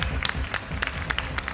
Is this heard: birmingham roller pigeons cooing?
no